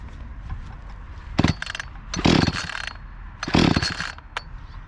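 An Echo chainsaw is cold-started with primer and choke, producing three short, loud bursts of noise separated by pauses, like repeated pull-start attempts catching briefly.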